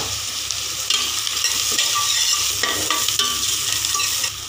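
Onions frying with salt in a pan for a mutton kuzhambu, a loud, dense sizzle with continuous stirring and scraping throughout, close up and without speech.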